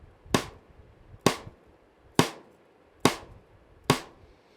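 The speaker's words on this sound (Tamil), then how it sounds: "ஸோ இப்போ கிராஸ் ஸ்டிக் சவுண்டு இப்போ நான் ஜஸ்ட்டு வாசிக்கிறேன்," Five evenly spaced cross stick rim clicks on a drum, a stick laid across the head and struck against the rim, each a sharp dry crack with a short ring, close and alone.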